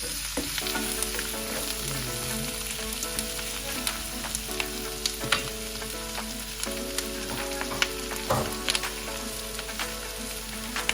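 Peeled shrimp frying in a hot pan for garlic rice, with a continuous crackling sizzle and occasional spatula clinks over a steady hum, close and wordless.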